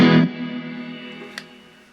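A guitar chord played through a Boss Katana Mini X amp with reverb: a sharp strum that rings out in a smooth, lingering wash, with a faint click near the end as it fades.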